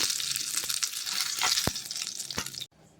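Mustard seeds, urad dal and curry leaves fry in hot oil for a spicy kara chutney tempering, giving a steady close crackling sizzle with a few sharper pops before it suddenly cuts off near the end.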